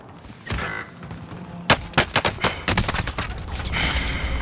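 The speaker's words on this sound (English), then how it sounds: "Allied cluster strike arriving." Cluster strike explosions in Call of Duty: Modern Warfare go off in a rapid string of sharp, loud blasts after an earlier thud, tailing into a rumbling wash, with no talk over them.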